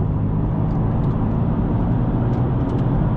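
Stage 1 tuned BMW M4 engine droning steadily inside a tunnel, with a loud, continuous low rumble echoing off the walls and faint crackles above it.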